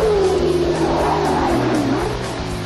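Race car at the Bathurst 1000 on Mount Panorama: a continuous, fairly loud engine drone whose pitch wavers and dips, then fades slightly toward the end.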